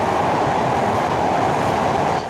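A train rolls over the steel rail bridge across the Padma River at night, a steady, loud metallic rumble and rattle of wheels on rails that holds continuously throughout with no voices.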